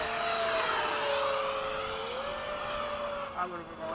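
A jet, with an F-14 and a MiG-21 in the area, makes a low pass down the runway at sunset. It gives a loud, sustained whine and roar with a slowly shifting pitch throughout, and faint voices can be heard beneath it.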